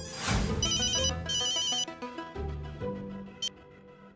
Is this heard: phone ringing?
yes